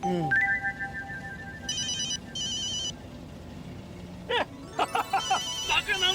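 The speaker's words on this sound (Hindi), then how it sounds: "फोन आ गया" A phone ringtone chimes in two short bursts, followed by rapid electronic beeping tones, with people talking underneath throughout.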